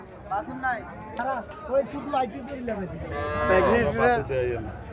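A pregnant cow at a cattle market moos repeatedly and loudly up close, its long calls overlapping with people chattering nearby.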